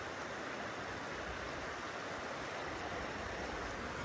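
A riverside stream in Korea flows in a constant rushing wash of water, faint and steady with no breaks, heard from the bank without voices.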